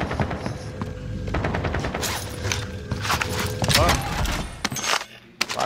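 Sustained automatic gunfire in Call of Duty: Modern Warfare, dense rattling bursts and sharp cracks packed close together throughout, loud and chaotic with mechanical clatter mixed in.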